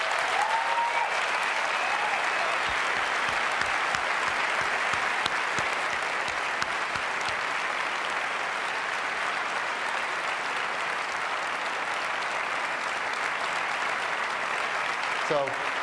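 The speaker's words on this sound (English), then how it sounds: "So please help me give them a round of applause." A large audience at Apple's WWDC 2009 keynote breaks into sustained applause, a dense, even roar of clapping that fills the hall throughout with little variation.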